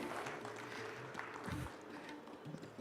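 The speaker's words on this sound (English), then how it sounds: "Please give him a huge round of applause." An audience on a startup event's main stage applauds a government IT secretary walking on, a steady wash of many hands clapping with some voices and a low thud mixed in.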